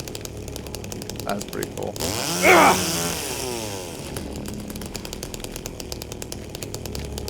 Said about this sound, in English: And so now, we have a chainsaw.